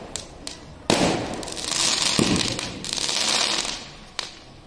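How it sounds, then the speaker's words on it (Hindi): Fireworks and firecrackers burst outside a house at night, with a sharp crack near the start, then long crackling, hissing volleys swelling and fading, and another sharp pop near the end. "बाहर पटाखा फूट रहा है, देखिए आतिशबाजी हो रही है बाहर"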